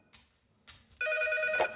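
A telephone rings with one sustained, bright electronic bell tone that starts abruptly after a couple of soft knocks and holds loud and steady to the end.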